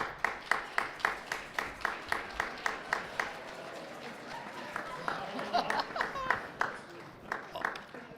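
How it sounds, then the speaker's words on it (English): Audience clapping breaks out at a Shabbat service to welcome Olaf, a snow-loving costumed guest, as he comes out to light the candles; steady rhythmic claps, moderately close, with crowd murmur and talk beneath. "please give a big round of applause to Olaf"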